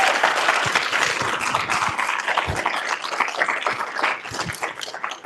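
An audience at a conference on cooling applauds, a dense, loud wash of many hands clapping at once that carries steadily throughout.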